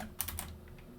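A few rapid keystrokes on a computer keyboard, quiet and close, while configuring a Cisco network switch, with faint background hum and no talking.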